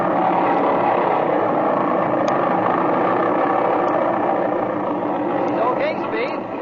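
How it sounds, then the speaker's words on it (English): A propeller aircraft engine is run up with the brakes set before takeoff, as a 1937 radio drama sound effect. A loud, steady, rough engine roar holds and then eases slightly, with a brief voice near the end. "Set your brakes, rev the engine up, see that it's hitting on both mags"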